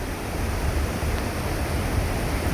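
Swollen river water after days of rain rushes loudly beneath a dam shutter, a steady broadband roar that fills the whole stretch without a break and with no voices over it.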